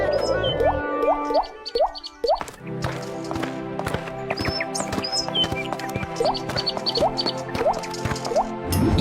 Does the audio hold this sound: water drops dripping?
yes